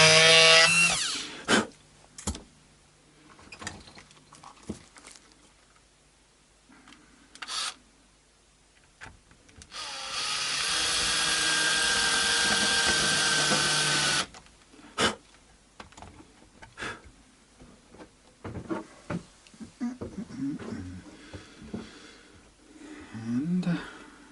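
A power tool grinds the protruding side of an oak Oakcaster travel guitar body in one steady, loud burst of about four seconds, framed by scattered knocks and handling clatter before and after.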